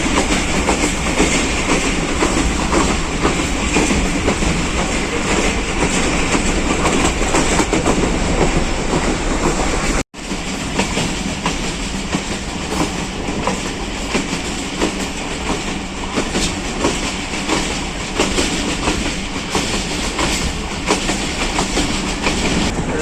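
The Kohat Express passenger train runs at speed through Pakistan, heard from on board. There is a loud, continuous rumble with rhythmic clickety-clack of the wheels over the rails and a brief break midway, and no one speaks.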